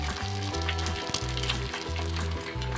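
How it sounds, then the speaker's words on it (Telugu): Beaten egg for a simple omelette frying in oil in a pan, a steady close sizzle with faint crackling running continuously, no talking. "ఫస్ట్ కొంచెం ఆయిల్ వేసుకొని ఎగ్ని బీట్ చేసుకొని"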